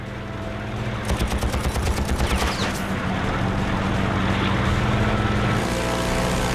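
A rapid burst of heavy automatic fire from a P-51 Mustang's four guns over a droning engine, followed by continuing loud mechanical rumble.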